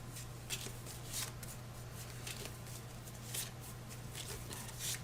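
Earthborne Rangers Valley cards shuffled by hand on a table, a soft, close series of riffling bursts repeating every second or so over a low steady hum.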